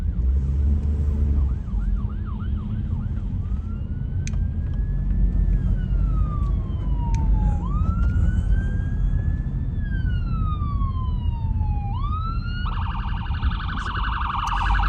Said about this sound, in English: when I am explaining I see an ambulance